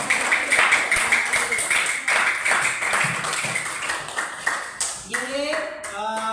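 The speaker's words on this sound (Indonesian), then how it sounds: "Iya, tepuk tangan." Classroom applause from primary school pupils, a burst of many small hands clapping together for a few seconds with a teacher's voice over it.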